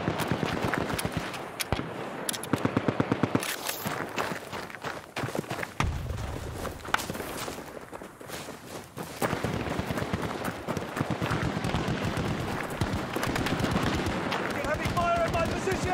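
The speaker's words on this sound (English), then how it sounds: "Heavy fire at my position." Sustained heavy gunfire in Battlefield 2042 on a 1942-era Rush map, with dense rapid bursts and explosions running almost continuously, loud and close throughout.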